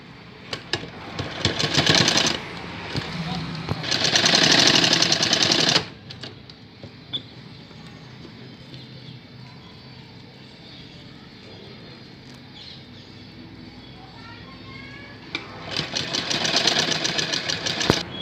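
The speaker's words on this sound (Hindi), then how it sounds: "जितना इलास्टिक हमारे पास आया था वहाँ पे हमने सिलाई लगा ली है" A sewing machine stitches elastic onto the waistband of a baby box-pleat skirt, with two loud bursts of rapid whirring near the start, a long quieter stretch of faint handling, then a final run of stitching near the end.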